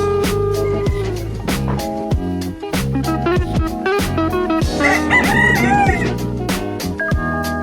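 Roosters crow and chickens cluck loudly and continuously at an animal rescue's bird area, with overlapping calls close by and no talk.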